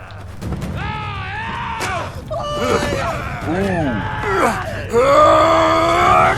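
Game character cries out and screams in pain amid fight grunts, thuds and impacts, loud and continuous with rising strained shouts.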